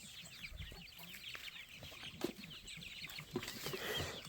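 Free-range, organically fed purebred chickens cluck and chatter steadily as a flock, with scattered louder calls rising over a constant outdoor murmur.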